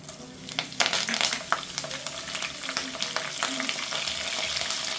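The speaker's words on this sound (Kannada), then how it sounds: "ಇವಾಗ ಆಯಿಲ್ ಕಾದಿದೆ. ನಾನು ಸ್ವಲ್ಪ ಇವಾಗ ಸಾಸಿವೆನ ಹಾಕೋತಿದ್ದೀನಿ." Mustard seeds and curry leaves hit hot oil in a pan while cooking a field bean curry, making a close, steady sizzle scattered with sharp crackling pops and some stirring clinks.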